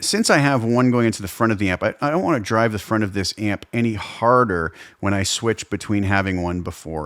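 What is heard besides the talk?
No distinct noise like a dog, phone or traffic.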